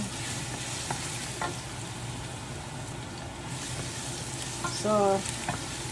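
Harvested vegetables sautéing in a pan for pochero, a steady close sizzle and frying hiss running throughout with occasional stirring scrapes and a brief higher clink near the end.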